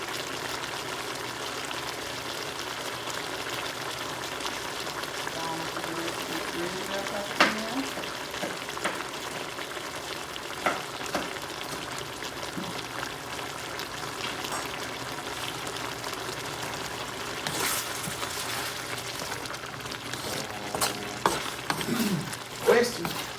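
Chicken cooks in a wok with a steady, close sizzle and frying hiss throughout, punctuated by occasional clinks and stirring scrapes, with voices talking faintly in the background.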